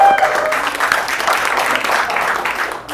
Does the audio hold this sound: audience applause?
yes